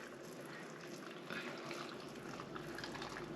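Boiling water poured from a kettle into a container in a home kitchen, a faint steady liquid rush and trickle lasting a few seconds, with no talking.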